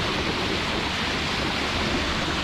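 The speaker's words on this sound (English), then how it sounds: "Even water flowing around the outside." Water rushing over a small waterfall in the wilds of Invermark, Scotland, a steady broadband roar with no breaks, loud and close, with no voices present.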